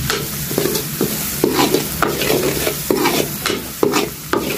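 Turmeric and salt are stirred into a frying pan while cooking, with repeated scraping strokes of the spoon against the pan over a constant loud sizzle and no talking.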